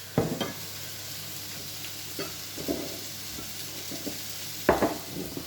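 Aiguillettes cooking in a pan give a steady, moderate sizzle with a few sharp scrapes and stirring knocks scattered through, the loudest near the start and the end.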